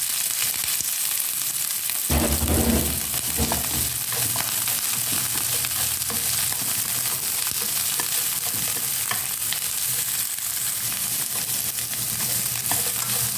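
Winged beans hit a hot pan of garlic with a sudden loud sizzle, then keep frying steadily with occasional stirring scrapes, the crackle filling the whole stretch with no talk.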